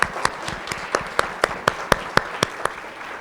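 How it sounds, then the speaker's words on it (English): A small audience at an academic excellence awards ceremony gives a round of applause, with a dozen or so distinct, evenly spaced claps standing out over a steady patter of lighter clapping. "give her a round of applause"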